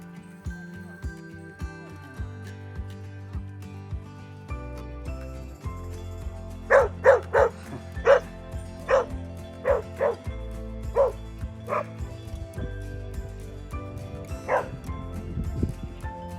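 A dog barks in short bursts on the Colorado Trail, about ten sharp barks spaced irregularly, over a low steady hum, with some whimpering yips mixed in.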